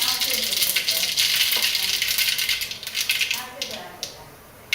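Mustard seeds splutter in hot oil with a dense, bright crackling and popping that stays loud for several seconds, then thins out to scattered pops.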